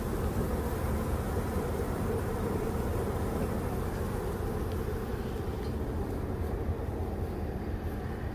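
Honey bee swarm being caught at a site in Tonti, Illinois, a dense, steady droning buzz of many bees, close and continuous throughout, with no talking.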